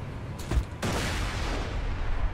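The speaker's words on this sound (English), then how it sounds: "First way is to grenade jump right here" Grenade blast from a grenade jump in the video game Borderlands 2: a single loud, close burst that rolls into a sustained rumbling tail lasting about two seconds.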